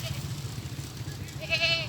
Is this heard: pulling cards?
no